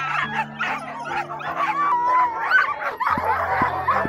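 Sled dogs, huskies being hitched to sled lines in a snowy Montana kennel, bark, yip and whine continuously in an excited overlapping chorus close by, with no speech.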